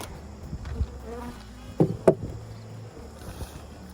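Bees buzz around an open beehive while brood boxes are being merged after a bear attack, a faint hum with a few louder passes near the microphone.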